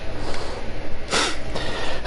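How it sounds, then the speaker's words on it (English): A person with allergies sniffles: two short nasal sniffs, close and moderately loud, over low background noise, with no talking. "Yeah, I got the sniffles"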